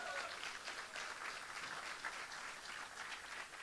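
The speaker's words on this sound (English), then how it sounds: "Give them a round of applause." An audience at an international conference claps steadily, a soft, fairly distant wash of applause that holds evenly throughout with no individual voices standing out.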